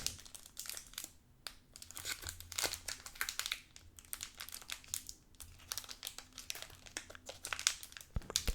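Crinkly plastic Magic: The Gathering booster pack wrappers from Shadows over Innistrad being handled up close, with steady irregular crackling and crunching bursts throughout, no talking.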